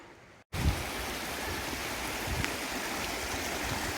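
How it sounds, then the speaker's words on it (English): A river rushing steadily at a valley crossing near Mount Rose by Lake Tahoe, Nevada, a continuous close broadband roar of flowing water that starts abruptly after a brief quieter moment. "I just reached a river crossing within the valley"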